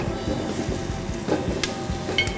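A sofrito of chopped onion and leek fries in heated olive oil, giving a continuous crackling sizzle close by, with a few spoon scrapes and small pops over the steady hiss.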